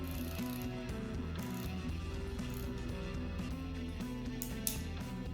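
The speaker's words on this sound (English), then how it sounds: "Let's try some ratcheting ring wrench." A Bahco flex head ratcheting ring wrench with a 72-tooth mechanism ticks in quiet, closely spaced clicks over a steady background hum, with no talk.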